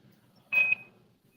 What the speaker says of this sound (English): I was trying to figure out if the beeping is coming from here or somewhere else